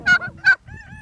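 Poultry calls ring out close by: two short, harsh squawks and then a steadier, drawn-out tonal call over a low, muffled background.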